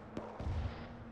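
A rocket strikes a vehicle in the military game ARMA 3, heard as a short sharp impact followed by a heavy low boom that rumbles briefly before fading, at moderate distance and alone.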